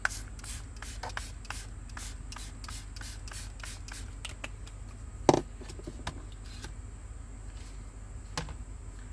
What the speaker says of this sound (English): spray your embossing folder